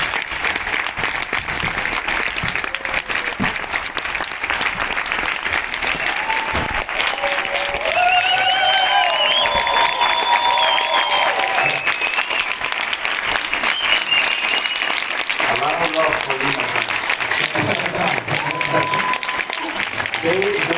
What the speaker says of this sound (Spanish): Un fuerte aplauso para el doctor Lewis.